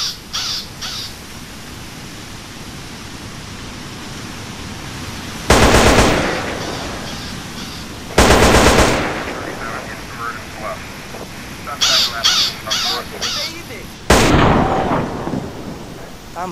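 Modded weapon firing in GTA San Andreas, several loud short bursts of gunfire separated by quieter gaps with game ambience, under someone talking.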